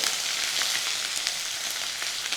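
Finely chopped green chillies and grated ginger sautéing in hot oil for upma give a continuous, close frying crackle with light spatters.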